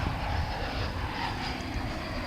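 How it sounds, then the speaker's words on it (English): Airbus A321 airliner at DFW International Airport, its engines roaring steadily and loudly throughout with no talk over it. "It's another Airbus A321."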